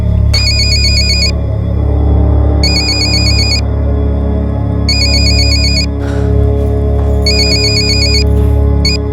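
A phone ringtone sounds in four repeated bursts at regular intervals, loud and clear over a steady low droning background.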